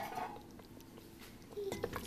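Utensils clinking and scraping against a pot while chicken salan with crushed cumin is stirred, a few brief metallic taps over a quiet kitchen background, busier toward the end.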